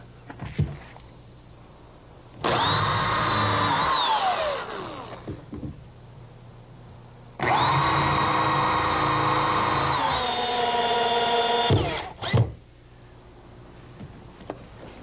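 A power drill drives screws into the center cleat of a wooden table during woodworking construction: two sustained whirring bursts, the first winding down at the end, close and loud, separated by quieter handling knocks, with no talking.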